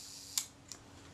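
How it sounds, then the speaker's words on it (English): A Kodak Retina IIIc camera shutter fires close up in a quiet room: a crisp mechanical click, followed a third of a second later by a softer second click. "the shutter fires."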